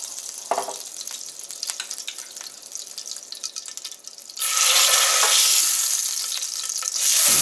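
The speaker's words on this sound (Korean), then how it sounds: "이때 기름을 살짝 두르겠습니다. 그리고 바로 고기를 넣어주도록 하겠습니다." Store-bought meat hits a hot, lightly oiled thin frying pan over high heat, sparking a loud close sizzle that surges and stays constant after a quieter stretch of soft crackling and stirring, with no voices.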